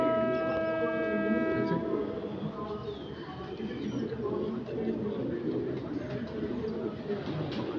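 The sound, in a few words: pigeons cooing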